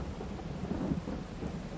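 Rain and thunder in the video game Farming Simulator 22: a steady patter of rainfall with a low, soft rumble of distant thunder rolling beneath it.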